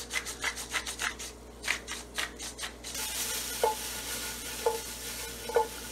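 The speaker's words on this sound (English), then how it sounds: "Okay, so our broccoli is gonna saute." Broccoli sautéing in a pan, a soft frying hiss with scraping stir strokes in the first half, then a steadier sizzle punctuated by a few light clinks, close and moderately quiet.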